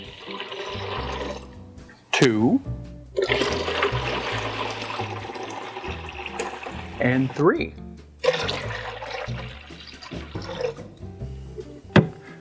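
Water pours and splashes in several bursts from a pitcher into a cooler, with a person talking over and between the pours.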